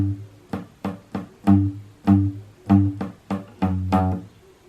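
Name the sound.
guitar playing intro riff slowly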